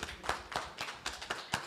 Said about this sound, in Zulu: Ishaleni ihlombe lonto bafowethu